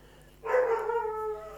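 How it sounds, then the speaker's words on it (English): A dog gives a single short bark that trails into a whining yelp indoors, fairly close and clear against a quiet room. "You can hear him barking."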